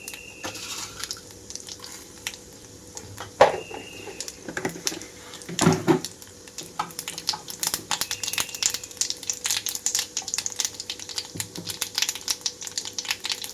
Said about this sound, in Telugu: ఆవాలు, జీలకర్ర చిటపటమనే వరకు ఉంచాలి